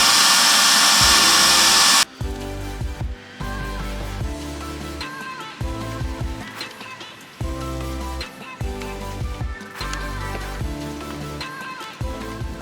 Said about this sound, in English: But first I need to drill a hole here and put a grommet in